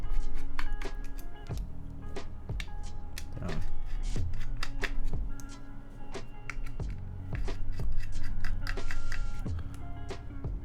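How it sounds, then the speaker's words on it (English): Small screws being worked loose from a mechanical keyboard daughter board, a run of close, sharp clicks and metallic ticks at an irregular pace over a low steady hum. "I need to actually take off these screws."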